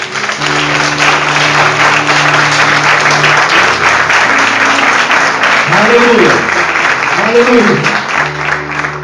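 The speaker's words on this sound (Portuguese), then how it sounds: "Aplauda o Senhor." A church congregation applauds in a sustained wash of clapping over organ or keyboard chords, while a voice calls out over it.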